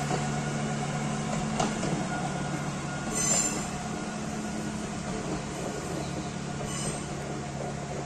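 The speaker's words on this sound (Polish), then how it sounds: "Proszę zobaczyć, jeszcze dodatkowo jedzie pociąg." A train rolls past a railway line running beside a wooded river valley near Polanica, a steady continuous rumble of wheels on track with occasional faint squeals, close and loud throughout.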